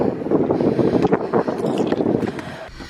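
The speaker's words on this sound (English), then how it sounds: "it's windy out there" Wind blows outdoors beside a moored narrowboat, a steady loud rushing roar buffeting the microphone with gusty bursts, and no one speaks.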